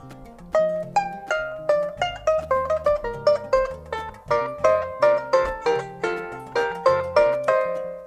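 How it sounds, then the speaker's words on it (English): Adungu, a Ugandan harp built of skin and wood, plucked in a lively melodic run of bright, ringing notes over deeper bass tones, heard close and alone. "So this is adungu, a simple instrument as you see, skin and wood,"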